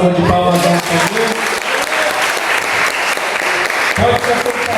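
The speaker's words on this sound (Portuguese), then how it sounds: "salva de palmas ao Senhor." A church congregation claps together in a loud, dense burst of applause that fills the room from start to finish, with voices mixed in among the crowd.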